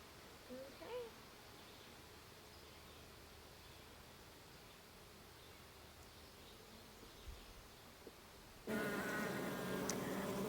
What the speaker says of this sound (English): some of the bees currently in the hive are already starting to climb around and check her out